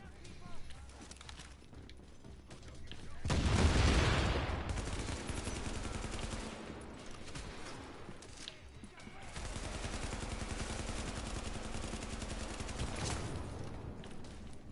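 Game turret firing incendiary fire bullets in an online shooter, heard as a loud burst of rapid gunfire that swells and then continues as sustained shooting with crackling impacts.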